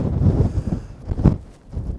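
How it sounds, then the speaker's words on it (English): Strong wind buffeting the microphone on a rainy hilltop, low rumbling gusts that swell and ease across the clip with no voices. "stupidly windy up here at the moment, and the rain is just non-stop"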